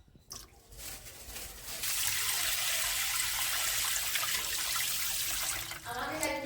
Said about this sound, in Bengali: তো চলো আমি মাছগুলো চটপট করে এবারে ধুয়ে নিচ্ছি